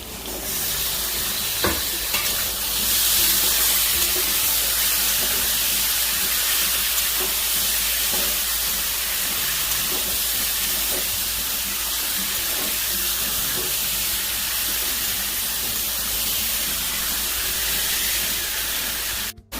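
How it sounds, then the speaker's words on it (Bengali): Chicken pieces dropped into a hot pan sizzle and spit loudly and steadily, with stirring clatter and a constant hiss carrying on throughout. "চিকেনগুলো এবার আমি দিয়ে দেবো।"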